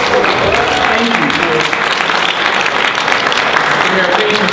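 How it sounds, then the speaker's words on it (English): Sustained applause from an audience at a community legislative reception fills the whole stretch at steady loudness, with voices murmuring and talking underneath the dense clapping. "Let's give him another round of applause."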